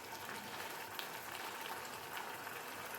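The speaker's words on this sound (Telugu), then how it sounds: "చూడండి ఇలా పొడకలు పొడకలుగా ఎలా వస్తుందో" Andhra style spicy fish curry boiling in a pan, with a steady, dense bubbling and popping that continues evenly throughout at close range, no voices.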